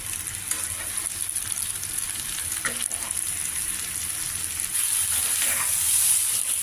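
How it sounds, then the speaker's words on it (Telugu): Ivy gourds (tindora) sizzle steadily in hot oil in a pan, a dense continuous frying hiss that grows slightly louder toward the end, with no talking. "బాగా వేగుతుంది దొండకాయలు"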